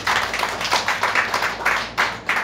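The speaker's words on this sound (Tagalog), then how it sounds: "Palakpakan si Lord." A church congregation claps in a quick, uneven series of close hand claps, each burst short and sharp, with no talk over it.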